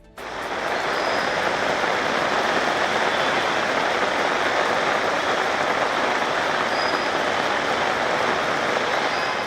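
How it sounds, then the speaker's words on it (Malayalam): Very heavy rain falls in a dense, steady roar of broadband hiss. The sound starts abruptly and stays loud and unbroken throughout, with no voices. "സംസ്ഥാനത്ത് പെയ്യുന്നത് അതിശക്തമായ മഴ"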